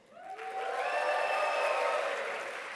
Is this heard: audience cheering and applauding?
yes